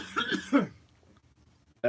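A person coughs twice in quick succession, fairly close, in a quiet indoor podcast setting, followed by near silence and a short sound at the end.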